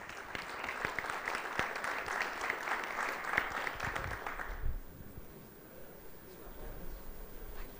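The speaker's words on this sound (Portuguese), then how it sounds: "Agora sim, então, uma salva de palmas à Andréa." Audience members applaud a named winner during a book raffle at a council-election debate event. Brisk, crowded clapping runs for about four and a half seconds, then cuts off into a quiet room hush.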